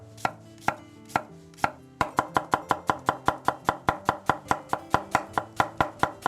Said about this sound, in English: Now we're going to chop some onions quick.